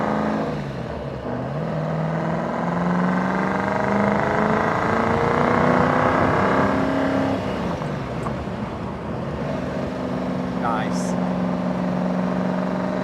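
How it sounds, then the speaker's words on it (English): A 1967 K-code Mustang with solid lifters, heard from inside while driving through a neighborhood: a moderate, steady engine drone with mild rises in revs, with speech over it. "Can you hear the engine? It's not loud, but you can hear that wonderful solid lifter sound."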